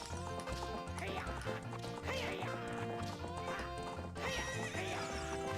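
Horse race in a Nintendo video game, with synthesized horse neighs and clip-clop hoofbeats over steady looping game music, moderately quiet and continuous.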